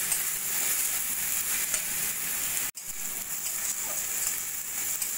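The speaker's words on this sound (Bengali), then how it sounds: "পেঁয়াজটা একটু আমি হালকা সোনালি করে ভেজে নেব।" Onion frying in a pan until light golden, a steady close sizzle with a faint crackle that runs throughout, briefly cut once partway through before carrying on.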